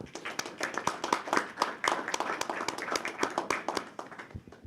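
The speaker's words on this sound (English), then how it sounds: "So let us all give you an applause" A small audience claps at a graduation ceremony for a January 2013 class, distinct individual handclaps in a quick uneven patter, close and fairly light, tapering off toward the end.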